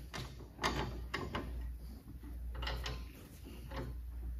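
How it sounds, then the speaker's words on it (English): An old, cheap Harbor Freight body dolly is clamped into a bench vise, with several sharp metallic clunks and ratcheting clicks from the vise jaws and handle, close and fairly quiet, no talking. "I'll stick my old cheap Harbor Freight dolly into the vise"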